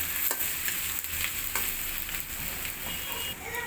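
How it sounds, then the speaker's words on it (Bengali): Sliced onion fries in a pan for a Bangladeshi dried-fish (shutki) dish, a close, steady sizzle broken by the scrape and clatter of stirring, with no voices. "পেঁয়াজটা আমি একটু হালকা ব্রাউন করে ভেজে নিয়েছি"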